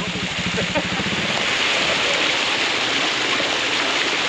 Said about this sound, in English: we are checking out the waterfalls at Wild Willeys